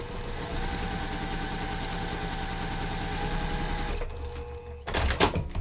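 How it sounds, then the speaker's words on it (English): A sewing machine stitches quilt patches in a fast, even mechanical whir with a regular needle rhythm for about four seconds. It stops, followed by a few close handling knocks. "And so then I'm going to sew this down."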